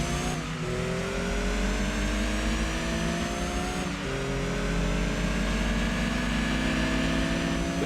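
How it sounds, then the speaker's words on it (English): A turbocharged car engine in Gran Turismo 2 revs and climbs through the gears, a loud, steady drone with rising pitch sweeps and a shift near the middle, no talk. "You can see that turbo is actually putting a lot of work into this car."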